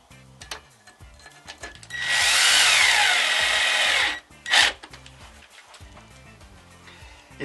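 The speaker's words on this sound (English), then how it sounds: "if you've got an electric screwdriver like this" An electric screwdriver drives a screw into the wooden frame of a Velux roof window, one loud whirring burst of about two seconds, then a short second burst, with quiet handling sounds before and after.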